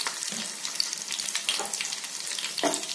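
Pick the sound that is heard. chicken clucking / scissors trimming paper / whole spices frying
whole spices frying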